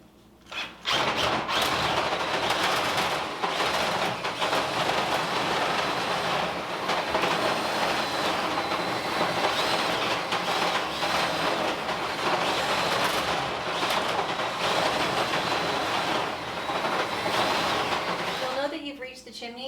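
A chimney cleaning brush rattles and scrapes continuously inside a wood stove chimney pipe as it reaches the rooftop section, a dense, loud clatter that holds for most of the stretch before stopping abruptly.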